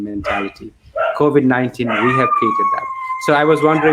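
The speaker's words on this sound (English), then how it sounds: "I'm sorry, apologize for my dog." A dog barks and yips in the background, intermittent and fairly close, mixed in under continuous speech from a person talking over it.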